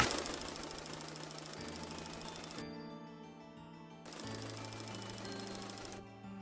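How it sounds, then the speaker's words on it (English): Minecraft pistons fire in a fast, repeating mechanical clatter that comes in sustained bursts, cuts off abruptly, then resumes after short pauses over a humming undertone, with no talking. "There has to be at least a half a dozen different piston sounds in the game"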